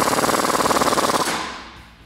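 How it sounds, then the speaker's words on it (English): An 18 mm socket spins a shock bolt tight on a Jeep Wrangler JK during a suspension lift install, producing a close, loud, rapid rattling hammer of evenly spaced pulses that stops abruptly and rings out briefly. "we can tighten that down with an 18 millimeter wrench and socket"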